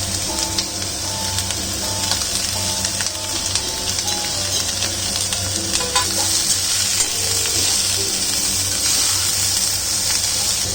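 Whole spices (fennel, cinnamon, cloves), pepper and fresh ginger sizzle steadily in a hot pan while being stirred, with scraping and spattering close up and no voices.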